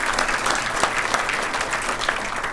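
An audience at the Torrance Area Chamber of Commerce State of the State event gives a round of applause. Dense, even clapping fills the room at a steady level throughout.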